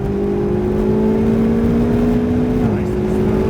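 Ferrari 488 GTB driven on the Nelson Ledges race course, a steady engine drone under throttle holding a constant pitch, then dipping slightly near the end, close and continuous.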